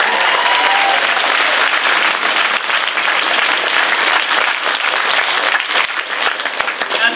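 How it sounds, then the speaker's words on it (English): Enthusiastic audience applause at a Lyme Regis Pantomime Society production of Cinderella, dense steady clapping from a full crowd filling the room, loud and continuous without talk. "Give a big round of applause."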